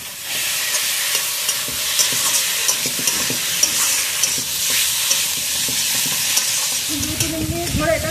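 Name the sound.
sautéing rui fish with potatoes and green chillies in a pan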